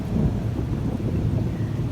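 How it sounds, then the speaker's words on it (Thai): Thunder rumbles during rain in Florida: a deep, rolling low roar over the steady hiss of falling rain, loud and continuous, with no voices. "เสียงฟ้าร้องเวลาฝนตกที่นี่ที่ฟลอริดานี่ฟ้าร้องฟ้าแลบนี่น่ากลัวมากนะคะ"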